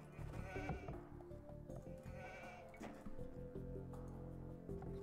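Sheep in the strategy game Age of Empires 2 give a couple of quiet, wavering bleats over soft game ambience.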